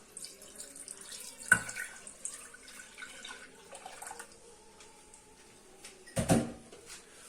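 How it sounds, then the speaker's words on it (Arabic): Milk being poured for a cold yogurt dessert, with a short splash near the start and a louder burst of pouring later, among faint kitchen clatter. "كما كتشوفوا غنكب الحليب"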